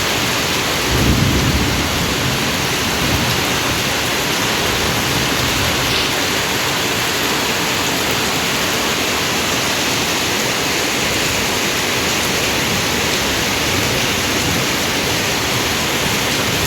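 Heavy rain pours steadily over rural rice fields, a loud dense hiss throughout, with a deep rumble of thunder near the start fading into the constant downpour.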